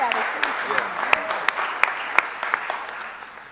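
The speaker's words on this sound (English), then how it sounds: "Can we applaud Leslie for all the" An audience applauds at a city council ceremony honoring a performer, with dense clapping from a crowd and a few sharper claps standing out, the sound fading slightly toward the end.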